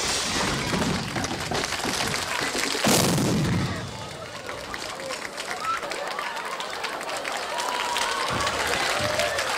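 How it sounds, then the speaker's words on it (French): An on-stage explosion in a rock band's drum kit, a sharp loud blast followed by a rush of crowd noise and cheering that fades gradually, with voices audible over the din. "The explosion caused a momentary breakdown in transmission across America."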